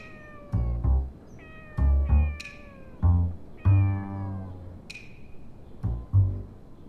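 A handful of stray cats yowl outside in loud, close, rising-and-falling meows, one after another with short gaps between the calls.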